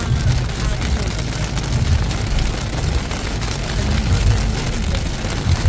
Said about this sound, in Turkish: Bayağı hızlandı yağmur.